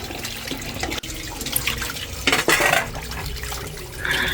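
Cut poa and khalla fish are rinsed in water, giving close, irregular splashes and sloshing with a few sharp knocks against a pot or bowl.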